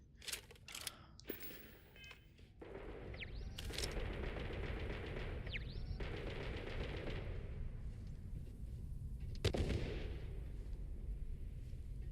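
Rifle shots in the video game Starfield, a few sharp cracks early and one loud report near the end over a steady low background hum, with small electronic beeps scattered between.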